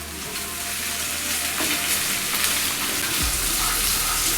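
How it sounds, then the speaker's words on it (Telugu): Onion, tomato and ginger paste with spices sizzles steadily in a hot pan while being stirred, a continuous close frying hiss with soft scraping and no voices, in a Hyderabad-style ginger chicken dish. "ఇందులో ఇవన్నీ 3 కలిసేటట్లుగా, ఈ మసాలా దినుసులతోటి కలిసేటట్లుగా కలుపుకుంటున్నాను"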